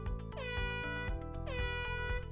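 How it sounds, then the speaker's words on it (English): A loud air horn sounds short emergency blasts at a primary school site, each blast a harsh, blaring tone separated by brief gaps. "In the event of an emergency, you will hear 3 short blasts from an air horn."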